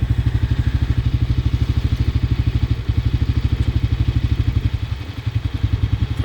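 A Bashan 250 quad bike with shaft drive, rear axle and manual gearbox idles with a steady, close, low, rhythmic thumping engine pulse that continues throughout.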